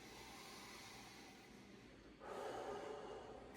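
A patient draws a deep breath during a medical exam, a soft airy inhale that swells and grows louder partway through, heard up close with no talking.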